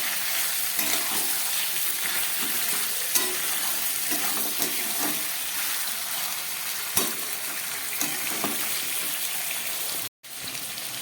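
Chicken pieces frying with onions in a pan give off a steady, loud sizzle with crackling pops and a few stirring scrapes, all of it on its own without any talk, and a very brief dropout comes near the end.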